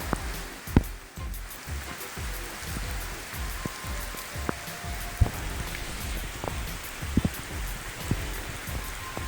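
Afternoon downpour in a humid subtropical forest nature preserve: steady rain patters on leaves and ground all around, with scattered louder drops landing close by.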